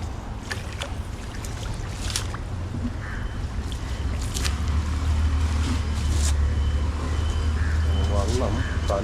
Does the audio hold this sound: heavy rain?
no